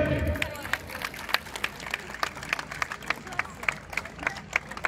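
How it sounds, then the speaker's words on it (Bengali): Loud applause for the artist on stage at a Bengali New Year program fills the clip: a crowd claps steadily for several seconds, with quick clustered claps over a murmur of crowd noise. "একবার জোরে হাততালি।"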